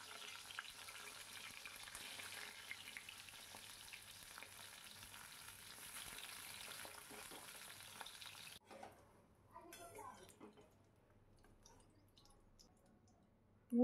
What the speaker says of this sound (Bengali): এইভাবে পরপর আমি পটলগুলোকে ভেজে নেব।